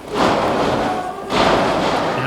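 A wrestler bangs his knee against his opponent's head during a pro wrestling bout, giving dull thuds amid loud, continuous arena crowd noise that briefly dips and then swells again.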